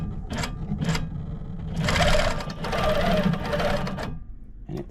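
A long arm sewing machine stitches a tote bag in a few short bursts, then runs in two longer steady stretches of rapid mechanical chatter, loud and close, with no voices.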